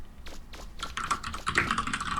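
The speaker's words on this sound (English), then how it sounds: "I can also hear Nox's keyboard" Quick keyboard typing in the Mega Man Legends video game, a burst of close, rapid key clicks and taps that grows busier and denser toward the end.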